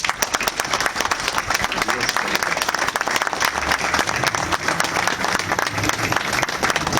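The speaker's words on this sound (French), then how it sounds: "je vous demande de bien vouloir l'applaudir." An audience claps steadily for a widow at a political gathering in Nice, with dense, loud applause running throughout and some voices faintly mixed in.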